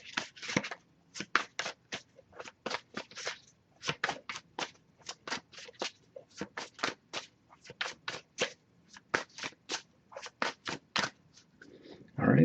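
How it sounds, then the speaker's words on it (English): Tarot cards are shuffled by hand in a steady run of crisp riffling bursts, about two or three per second, close and clear over a quiet room, ending with a brief soft rustle. "I'll give it a few more shuffles before we move on"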